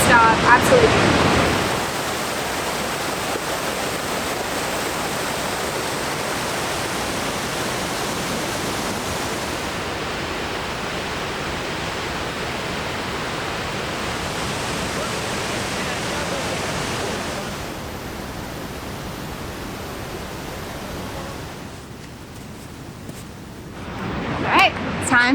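Goðafoss waterfall in northern Iceland, a loud, steady broadband roar of falling water that holds for about twenty seconds before easing slightly, with wind buffeting at the start and end.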